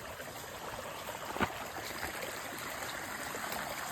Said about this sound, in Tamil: நடந்து போகிற தடமெல்லாம் தண்ணியாக ஓடிட்டு இருக்கு